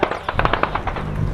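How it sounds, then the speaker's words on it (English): Rapid bursts of gunfire crack close by, a quick irregular volley of sharp shots with bullets zinging just overhead, loud and busy for just over a second. "gunfire comes in right above our heads. You can hear the zinging of the bullets flying just past."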